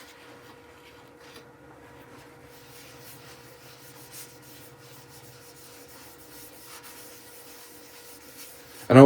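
Finish is rubbed by hand onto a turned wooden bowl with the lathe switched off, giving a faint, soft, continuous scuffing close by, ending in a sudden louder knock.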